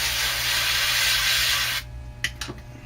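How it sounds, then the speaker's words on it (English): A steady, broad airbrush hiss sprays Spaz Stix paint for nearly two seconds, then cuts off, leaving a few short faint bursts and quiet handling noise. "I guess I gotta turn up the airbrush a little bit there."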